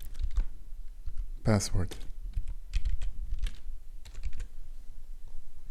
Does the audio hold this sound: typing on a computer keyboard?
yes